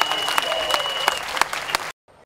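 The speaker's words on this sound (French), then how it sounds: "Sous vos applaudissements, mesdames et messieurs." A crowd at a community dialogue event applauds, a lively burst of clapping with sharp individual claps standing out, then cutting off abruptly near the end.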